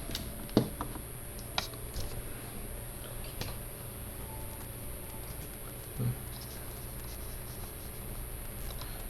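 A few sparse clicks and taps on a computer keyboard, set up for a Portuguese-language linear algebra lesson, sound faint and scattered over a steady background hum with no talking.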